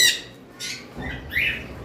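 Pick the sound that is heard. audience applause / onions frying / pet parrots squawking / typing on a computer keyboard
pet parrots squawking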